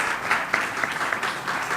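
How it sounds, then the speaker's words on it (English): A Rotary Club of Bombay audience claps in a brief, steady burst of applause, fairly close and even in loudness, with no voices over it. "can we have a little applause for that to begin with?"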